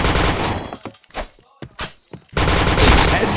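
Gunfire in a shooting video game: dense, loud bursts of automatic fire open and close the stretch, with short isolated shots and near-silent gaps between them.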